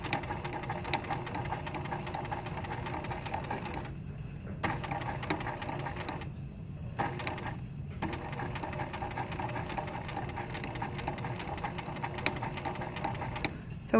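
Sewing machine stitching a teddy bear: a steady, close mechanical whir of rapid needle strokes with two brief pauses where the needle stops for a pivot turn, no talking.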